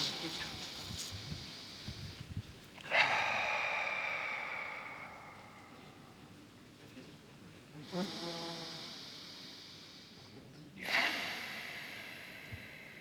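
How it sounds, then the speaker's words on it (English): Slow nasal breaths during a rest in a core workout, with three long airy inhales or exhales swelling up and fading at steady intervals over a quiet room. "Breathe in and out the nose."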